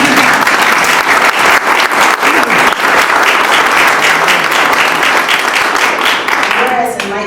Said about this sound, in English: You can clap right there,